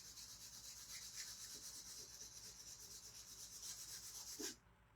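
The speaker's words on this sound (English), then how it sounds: "I'm going to sand off the paste that got on the edge." Quiet, rhythmic scratchy rubbing of a sanding block on painted wood, sanding paste off an edge, back-and-forth strokes for several seconds before stopping abruptly.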